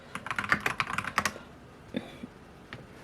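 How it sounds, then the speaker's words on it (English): Quick bursts of typing on a computer keyboard while entering a web search, a rapid cluster of close clicky keystrokes, then a pause and a few scattered taps, with no voices. "Just typing in My Treasure House"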